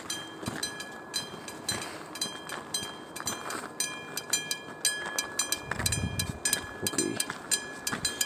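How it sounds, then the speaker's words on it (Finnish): A train rolls past with rhythmic clickety-clack thumps from wheels over rail joints and steady metallic high-pitched tones, fairly close and loud, with no talking. "Kuvataan nyt tuo juna, joka tuolta on ehkä kohta tulossa,"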